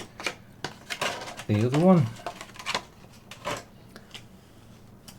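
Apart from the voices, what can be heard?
Logitech G502 SE Hero mouse button clicks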